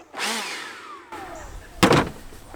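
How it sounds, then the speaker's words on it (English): Leaf blower used in beekeeping while harvesting honey, a loud motor whine rising and falling in pitch before a brief gap, then a heavy burst of rushing air near the end. "and I have my leaf blower."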